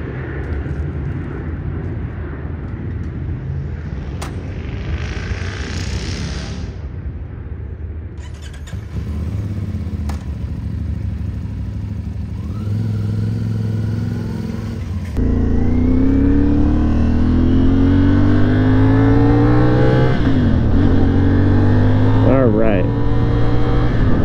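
A 2023 CFMOTO 450SS motorcycle is ridden and accelerated, its engine loud and close, rising through revs with wind rush over the microphone, and the pitch climbs steadily in the final stretch.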